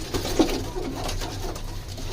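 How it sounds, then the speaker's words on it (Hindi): Soft pigeon cooing in a short low burst, over a steady background hum. "ये कबूतर देख लें"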